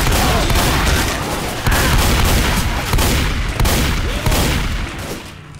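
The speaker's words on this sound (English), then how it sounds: "Quit shooting me." Gunfire in a Left 4 Dead 2 custom City 17 campaign with eight survivors: loud, close bursts of rapid shots come in several waves with short gaps, sharp and punchy throughout.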